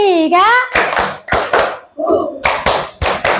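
In a classroom clap game, a group of children claps in short bursts of sharp, rhythmic claps between a teacher's spoken prompts, loud and close.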